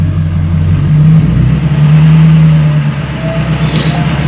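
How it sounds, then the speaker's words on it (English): Power Stroke diesel truck engine revving nearby, RPMs climbing then settling into a loud, steady drone. "the RPMs go up"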